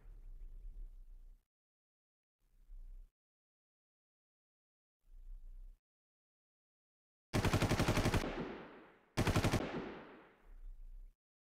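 Bursts of automatic gunfire from a secondary weapon in the island survival game Ocean Is Home, in short rapid volleys between quieter gaps, with two loud sustained bursts fading out near the end.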